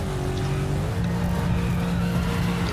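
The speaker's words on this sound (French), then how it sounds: "Petit V8 qui fait plaisir." Koenigsegg Agera R V8 supercar with active rear wing and exhaust, engine droning loud and steady with a rising then held pitch, close by and alone with no talk.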